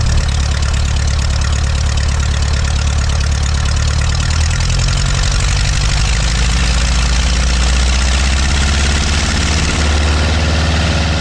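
A Continental O200 light aircraft engine runs steadily on a cold day in Arcachon, a loud, close, continuous low drone with a rough pulsing beat that shifts slightly in pitch partway through, and no voices over it.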